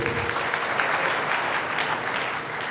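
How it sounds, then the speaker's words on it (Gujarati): Steady, dense applause from a seminar audience, a continuous even roar of many hands clapping throughout with no pause. "તાળીઓના ગડગડાટથી આપણે એમને વધાવીએ"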